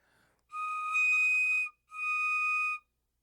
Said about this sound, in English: I've never blown an eagle whistle on television, but I'm going to do it now.